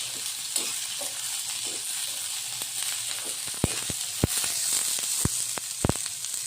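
Vegetables for veg tacos cooking in a pan: a steady, close sizzle and hiss runs throughout, with a few sharp utensil taps near the end and no talking.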